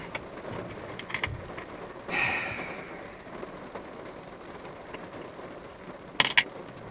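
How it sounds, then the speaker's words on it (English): Rain falling outdoors during a hike, a steady, faint hiss of drops with a few brief louder spatters and no voices. "I like hiking if it's raining sometimes"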